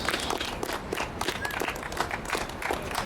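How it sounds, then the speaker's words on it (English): An outdoor Occupy Boston crowd gives steady, moderately loud applause for a speaker, with dense overlapping claps continuing throughout and faint voices mixed in. "let's give him a warm round of applause"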